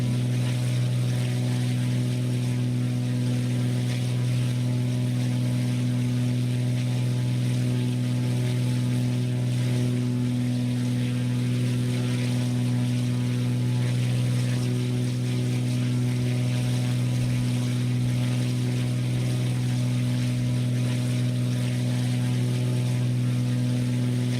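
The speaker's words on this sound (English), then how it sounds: "This airplane sounds so good." In Microsoft Flight Simulator 2024, a simulated Piper P28S or P28U light airplane's piston engine holds a steady, even, droning hum throughout, heard alone with no talk.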